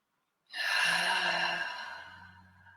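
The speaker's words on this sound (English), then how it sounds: "And just 3 nice deep breaths here." A single deep breath, drawn in and released as a long, audible sigh-like exhale, close and fairly loud, tapering off gradually in a quiet guided-meditation setting.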